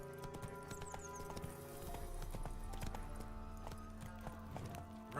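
Roach, a horse in the video game The Witcher 3, gallops with steady, rapid hoofbeats. A brief whinny rises near the start over a low in-game musical backdrop.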